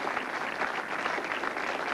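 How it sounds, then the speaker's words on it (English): A steady, moderately quiet patter of applause follows a good shot during a 1990 Goldpin Classic ten-pin bowling match and continues evenly throughout. "Talking to her opponent, he gives her a clap."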